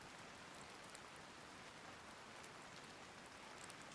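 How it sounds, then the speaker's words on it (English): Steady rain ambience plays as a quiet background bed in a video game, a constant soft hiss of falling drops with no distinct beats or voices over it. "hope you're enjoying the rain aesthetic that's playing in the background"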